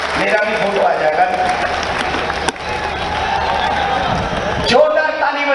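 A crowd at a religious stage gathering applauds in a dense, continuous clatter of clapping, while someone speaks loudly over a microphone.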